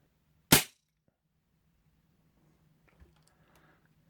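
A Diana Chaser CO2 air pistol fires once with a sharp, loud crack at close range, then the sound falls to near silence with faint handling noises afterward.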